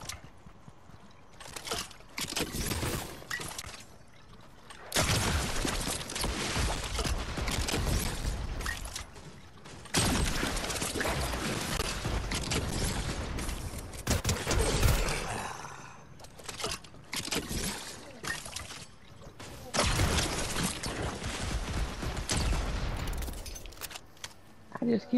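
Bursts of rapid gunfire and explosions from a shooter video game, loud clustered volleys separated by brief quieter gaps, with a player's voice talking in between.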